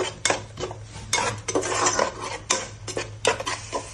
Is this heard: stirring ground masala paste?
yes